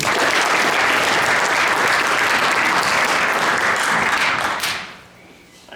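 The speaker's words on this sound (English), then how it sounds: "If we can give Cole a round of applause" A room of guests at a 2023 high school boys soccer banquet gives a player a loud, dense round of applause that holds steady for several seconds, then fades quickly and falls almost silent.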